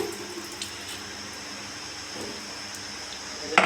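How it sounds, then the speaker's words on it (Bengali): Water drains off washed Gobindobhog rice in a steady, soft, close splashing pour that runs throughout, ending in a brief louder clatter. "চালটা এখন আমি ধুয়ে জলটা ফেলে দিচ্ছি"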